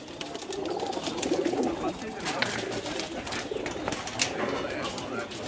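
A khaki pigeon coos softly in a loft at a farm house near Islamabad, amid a continuous chorus of other pigeons and rustling, with people talking through it.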